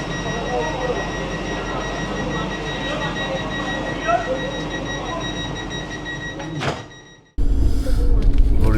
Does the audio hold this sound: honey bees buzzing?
no